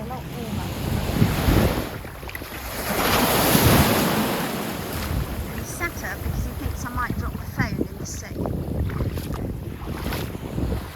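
Sea waves wash and break on a beach in Lanzarote, a loud, continuous surge that swells and recedes, with heavy wind buffeting the microphone throughout.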